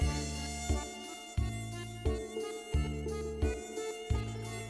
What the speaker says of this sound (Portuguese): Um mosquito voa.